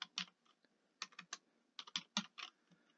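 Computer keyboard keys clatter in quick irregular bursts while a spreadsheet formula is entered, crisp and close with short pauses between clusters of strokes and no voices.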